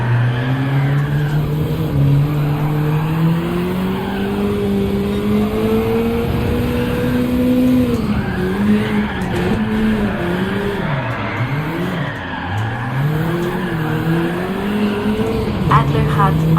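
Gr.3 race car in Gran Turismo 7 at Interlagos, engine droning steadily with shifting pitch as the tires slide and squeal through corners, a voice talking over it throughout.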